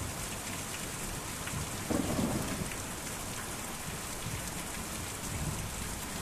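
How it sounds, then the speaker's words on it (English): Heavy rain in the video game Kentucky Route Zero hisses steadily, with a brief low rumble of thunder partway through; no voices. "This is very loud rain."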